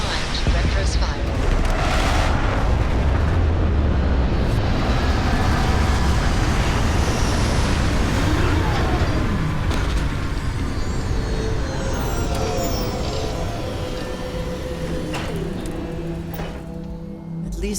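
Spaceship retro thrusters firing through a landing in Starfield: a dense, continuous low roar with rumbling texture, loud and sustained throughout, easing slightly toward the end.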